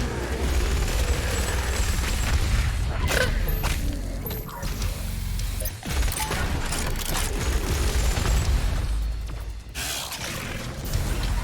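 In the video game, the BFG 10,000 fires with loud, dense mechanical clanking, whirring and booming blasts that surge and break off repeatedly over several seconds.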